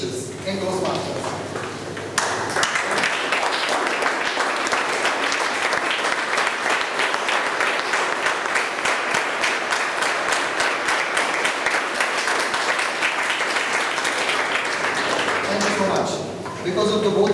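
Sustained audience applause at a Toastmasters meeting, with many hands clapping steadily from near and far for about fifteen seconds, then fading out, with a voice briefly audible at the start and end.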